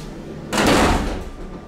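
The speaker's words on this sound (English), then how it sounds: "That inner door slams?" Inner door of a ThyssenDover hydraulic elevator in a university science building slams shut with one loud, close bang, followed by a short decaying rattle and room echo.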